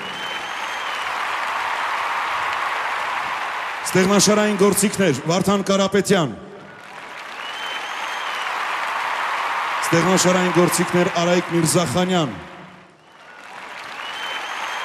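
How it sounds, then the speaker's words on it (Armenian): Warm audience applause at a folk concert as members of the vocal-instrumental ensemble are introduced. The clapping swells loud and full between the announcer's spoken introductions, which come in the pauses. "ձեր ջերմ ծափահարությունները։"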